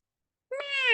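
A human voice imitating a cat's meow, one drawn-out, rising-then-falling mew that starts abruptly after a half-second of silence, close and clear.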